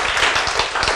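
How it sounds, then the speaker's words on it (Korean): A congregation at a sermon claps in a brief, dense burst of applause, loud and close, with no speech over it. "박수!"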